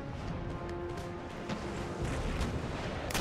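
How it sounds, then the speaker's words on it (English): Warship broadside cannon fire in the naval battle game Empire: Total War: a dense, continuous roll of heavy booms and rumbling blasts, loud and overlapping throughout. "I might actually broadside fire you, just to make sure you do hit first rate, not the fifth rate"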